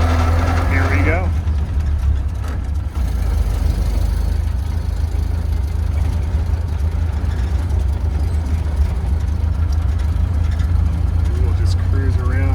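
A 1930 Ford Model A drives through a park, its engine a loud, steady low drone with a rough mechanical knock throughout, heard close from inside the car.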